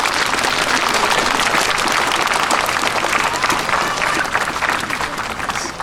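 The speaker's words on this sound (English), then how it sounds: "give them a really, really big round of applause." Loud, sustained applause from a large crowd, steady throughout and tapering slightly near the end, with a few faint voices mixed in.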